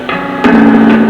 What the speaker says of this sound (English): there's reverb